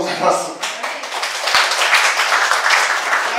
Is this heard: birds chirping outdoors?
no